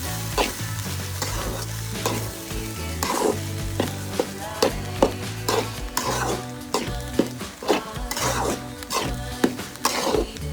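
Egg rice seasoned with pepper powder and salt sizzles steadily in a pan while a utensil stirs and scrapes it in repeated sharp strokes.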